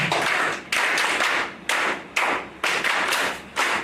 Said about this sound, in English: Two rounds of applause for Admiral Salami.